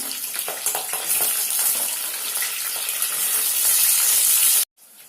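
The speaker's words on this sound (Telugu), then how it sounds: "ఇవి కూడా మంచిగా వేగినాయండి నూనెలో" Green chillies fry in hot oil, making a dense, loud, steady sizzle that cuts off abruptly near the end.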